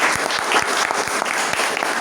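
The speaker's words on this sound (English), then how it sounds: "Please give a round of applause." Audience applause at a Toastmasters club meeting: a dense, steady round of clapping from a roomful of people, fairly close and loud, lasting about two seconds with no talk over it.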